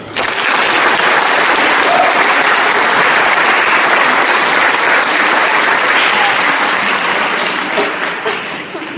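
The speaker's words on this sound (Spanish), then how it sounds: "Denle un aplauso al Señor" A church congregation breaks into loud, dense applause that fills the space as a continuous wash of clapping. It holds strong and steady before easing slightly at the end, with faint voices beneath it.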